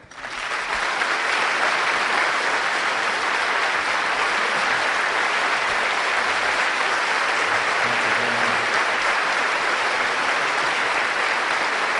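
A large audience claps continuously and loudly for about twelve seconds, a dense, even wash of applause welcoming Defense Secretary Donald Rumsfeld at a Palm Beach forum club event.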